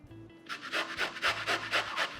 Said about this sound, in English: So let's grate it on this one. Yeah, the thinner the better.